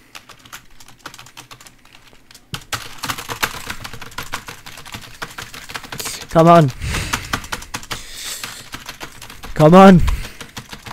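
Rapid computer keyboard typing clatters continuously during a laggy gaming stream, with dense bursts of key clicks, broken by a few loud excited shouts from a player.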